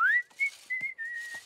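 A cartoon pony from My Little Pony whistles a bright, clear, wavering tune in a few short phrases while working, heard alone and close.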